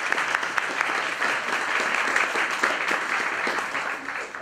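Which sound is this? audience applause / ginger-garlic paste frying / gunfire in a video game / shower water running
audience applause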